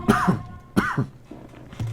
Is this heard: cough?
yes